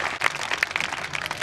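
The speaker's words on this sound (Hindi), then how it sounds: "तो प्लीज तालियों की एक गड़गड़ाहट उन लोगों के लिए भी जो पर्दे के पीछे थे इस कार्यक्रम के।" Applause from an audience at a school event, a steady dense patter of many hands clapping throughout, moderately loud and without talk.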